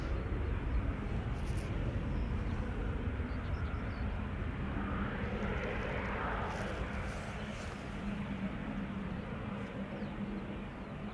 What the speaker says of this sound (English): Next up is going to be a 777-300 going to Lima in Peru. KLM Flight 743, taxiing to the runway threshold at the moment.